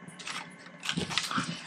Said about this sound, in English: Excuse my dog squeaking.